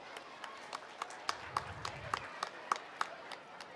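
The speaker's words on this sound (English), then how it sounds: "Please clap for yourself." A school anniversary audience clapping for themselves, scattered claps over a soft background with a few sharper hand strikes standing out, fairly faint and uneven.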